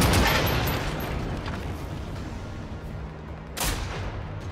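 Heavy gunfire in the video game Generation Zero, a dense rumbling barrage that booms loudly at the start and again near the end, with no one talking.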